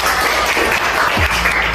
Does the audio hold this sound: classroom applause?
yes